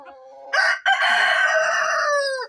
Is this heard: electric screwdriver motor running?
no